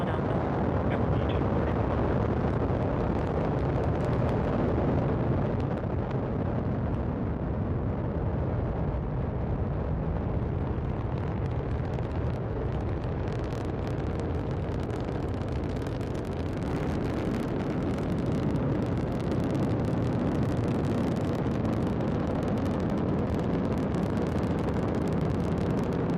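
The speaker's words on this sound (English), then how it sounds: "Ignition and liftoff." SpaceX Falcon 9 carrying the Crew 12 Dragon at liftoff: a continuous, deep, crackling roar from the rocket engines, broad and steady for the whole stretch, distant but powerful, with no talk.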